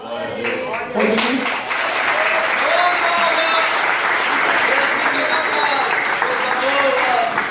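A church congregation claps and cheers to acclaim the King of kings. Sustained, loud applause fills the room, with voices shouting and calling over it and a speaker audible at the start.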